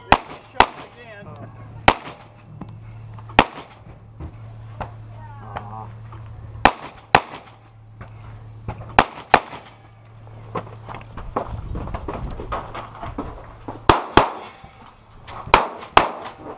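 Pistol shots crack one after another at a USPSA competition stage, with sharp reports and metallic rings from steel targets in irregular bursts, while people talk and move around in the background.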